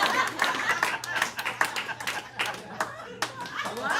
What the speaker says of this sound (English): Again, feel free to applaud it.